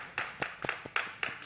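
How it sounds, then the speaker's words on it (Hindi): A few hand claps, five or six sharp separate slaps at an uneven pace, fairly close and moderately loud, on a reality show set with no talking over them. "अब सर एक बार ताली बजा दीजिए"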